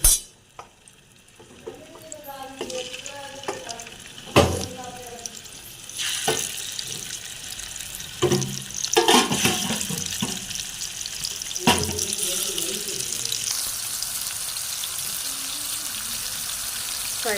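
Kebabs fry in oil in a frying pan with a continuous hiss, broken by clinks, scrapes and stirring knocks at intervals, fairly close and steady throughout.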